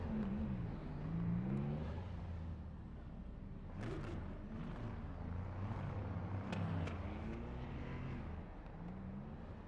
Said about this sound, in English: Whoever that car is, that sounds very good.